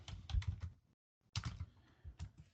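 A Linux command typed on a computer keyboard: two close bursts of crisp keystrokes separated by a brief silent pause, moderately quiet with no speech.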